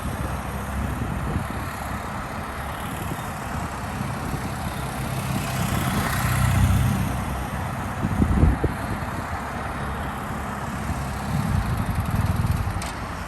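A motorcycle circling slowly at about 12 to 13 mph for knee-dragging practice, its engine a steady low drone with wind noise, swelling slightly around the middle and again near the end, no talking.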